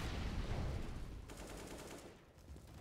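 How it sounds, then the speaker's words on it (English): Gunfire from a Counter-Strike match on the Cache map, a dense burst of distant, muffled shots rolling under steady broadband noise with no talk. "You can hear them shooting"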